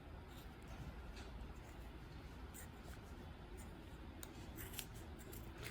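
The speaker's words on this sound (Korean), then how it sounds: "절반을 잘라줍니다." Scissors snipping through macrame cord give a few short, faint clicks and crisp snips over a low background hum.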